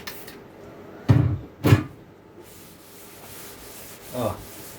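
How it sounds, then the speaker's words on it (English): Rubbing and wiping strokes of a cloth with rubbing alcohol on the wood veneer of a Celestion Ditton 44 speaker cabinet, two close firm swipes in quick succession, then a quieter pause and one softer stroke. "good clean with some rubbing alcohol"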